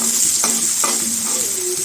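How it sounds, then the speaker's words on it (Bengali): Onions sizzle steadily in hot oil, a bright continuous hiss with a couple of scraping stirs from a spatula. "পেঁয়াজটা ভাজা হোক আস্তে আস্তে"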